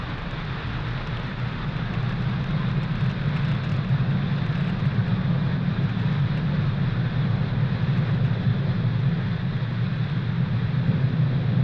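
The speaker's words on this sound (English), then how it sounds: "successful liftoff of Falcon 9 from Space Launch Complex 40 at the Cape Canaveral Space Force Station in Florida" SpaceX Falcon 9 rocket lifting off from Space Launch Complex 40 at Cape Canaveral, Florida: a continuous low, dense rumbling roar heard from a distance, steady in level throughout with no voices.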